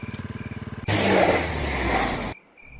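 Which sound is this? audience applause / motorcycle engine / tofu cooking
motorcycle engine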